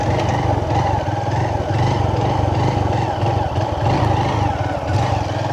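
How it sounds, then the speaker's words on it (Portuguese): A motorcycle engine runs steadily up close, a low throbbing drone with slight rises in revs, continuous throughout. "Acho que tá dando para escutar as vozinhas do motor."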